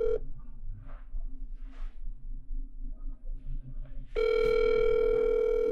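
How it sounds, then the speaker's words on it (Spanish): A telephone dial tone, a steady, loud, continuous electronic beep, starts abruptly after a few seconds of quiet room noise and faint murmurs and holds to the end. "Me suena como gringo su teléfono"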